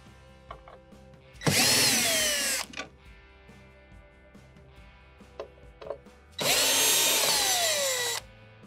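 A power drill backs out the 1/4 inch screws holding the front access panel of a commercial or household ice maker, sounding in two loud sustained whirring bursts with quiet clicks between.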